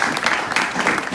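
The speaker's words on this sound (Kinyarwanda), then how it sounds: "Amashyi kwa Yesu." A Presbyterian church congregation claps in a brief, dense burst of many hands, loud and close, with no voices over it.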